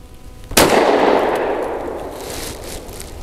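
A single sharp 9mm pistol shot from PMC Bronze ammunition fired through a SIG X-Macro with a 3.1 inch barrel, loud and close, followed by a long ringing decay of echo.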